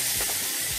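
Potatoes for dum aloo sizzling in oil in a pan, a steady close hiss and crackle filling the short moment with no voices.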